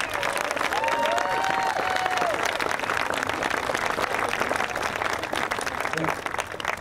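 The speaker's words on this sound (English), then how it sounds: "I think they all deserve a huge round of applause" Crowd applause at a park grand opening in Ventura, a dense, steady clapping that fills the whole stretch at full strength, with faint voices and a whistle or cheer rising briefly near the start.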